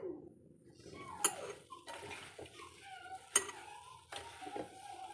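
A utensil stirs shallots, onion, tomato, chili, ginger and garlic together in a pan, with soft wet scraping and two sharp clinks of metal against the vessel, close and clear with no talk.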